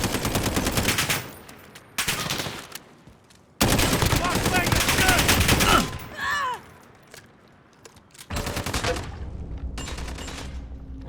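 Bursts of gunfire from a weapon used like a mortar in Call of Duty, coming in several loud clusters separated by brief gaps, with a final burst near the end.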